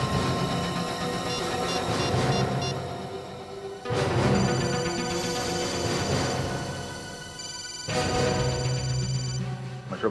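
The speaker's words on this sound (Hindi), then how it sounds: "फोन की घंटी बज रही है" A repeating electronic ring sounds in bursts, roughly every four seconds, amid dense, noisy background clatter.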